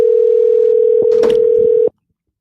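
A phone line holds a steady loud dial tone while a call is placed, a few brief keypress tones breaking in near the end before the tone cuts off abruptly into silence.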